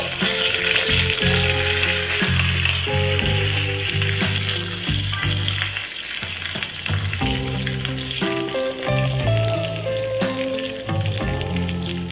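Loud sizzling of tempered spices and curry leaves frying in a pan for coconut chutney, close and continuous, with repeated scraping and clanking as they are stirred.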